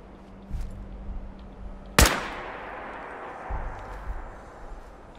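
A single sharp gunshot in Fallout 4, loud and sudden with a long decaying tail, rising from a quiet low game hum with no one speaking.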